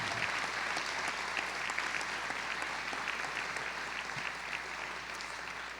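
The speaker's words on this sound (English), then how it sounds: "Can we have another round of applause for Mary's sons" Sustained audience applause at a university presidential inauguration for Mary's sons, a steady dense patter of many hands clapping that fades slightly toward the end.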